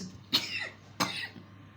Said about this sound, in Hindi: बड़ी ख़तरनाक खांसी आई मुझे बीच में